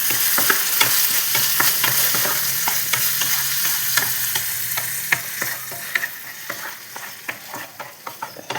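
Dry chilli chicken being stirred in a hot pan with its sauce and a splash of vinegar: constant sizzling frying with repeated scraping clicks of the spoon, close and steady, no voices.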